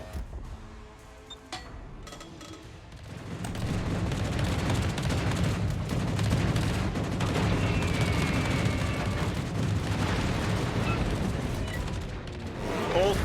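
Naval gunfire from warships in a World of Warships battle: a dense, continuous barrage of booming shots and rumbling blasts swells in after a quieter opening and holds loud and steady to the end.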